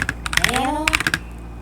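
Quick bursts of typing on a computer keyboard, close and crisp, a handful of key clicks in uneven rhythm with a faint tonal sweep under them.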